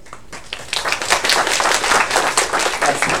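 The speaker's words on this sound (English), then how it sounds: "Just giving an applause," A small group of people clapping steadily, near and fairly loud, with a dense patter of claps running through the whole stretch after a brief quieter start.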